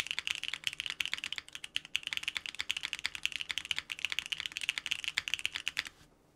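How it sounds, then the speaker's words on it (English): Rapid, steady clacking of keys on a mechanical keyboard with pre-lubed long-stem switches, close and clear, with no voices, ending in a brief pause. "it becomes a really soft typing experience"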